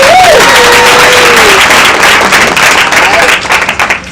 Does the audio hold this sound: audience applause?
yes